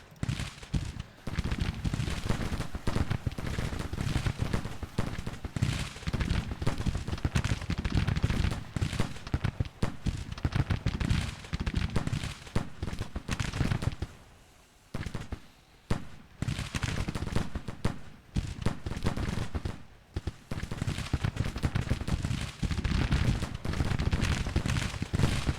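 Brigade musket volleys in Grand Tactician Civil War: dense, continuous crackling rifle fire with rolling booms, loud and sustained, briefly thinning midway before resuming at full intensity.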